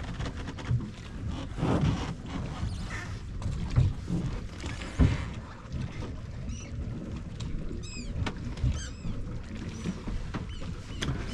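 Water laps and splashes around a small boat on Lake Titicaca near Isla del Sol under a steady rumble of wind, with occasional knocks and faint chirping calls later.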